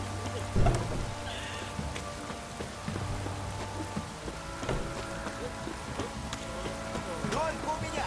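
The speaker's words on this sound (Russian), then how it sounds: "Дождик!" Soft, steady rainfall in The Witcher 3, a quiet diffuse patter with a few sharper knocks and background game sounds, while voices talk over it at points.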